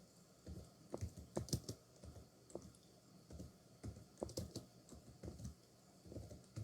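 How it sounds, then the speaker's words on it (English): Clicking keystrokes on a computer keyboard as a comment is typed, coming in quick irregular bursts with brief pauses, close and fairly quiet with no talking. "Type in your comment and you're good to go."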